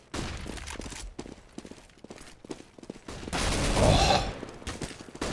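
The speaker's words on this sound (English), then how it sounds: "Jump up on the shot from Nasu." Gunfire in a competitive Counter-Strike match, where rapid shots and bursts crackle amid footsteps and action noise and build to a louder volley near the end.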